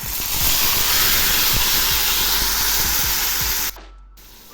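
Cauliflower florets dropped into hot oil with cardamom, cloves and cinnamon, a loud close burst of hissing sizzle with crackles that holds steady, then cuts off abruptly near the end.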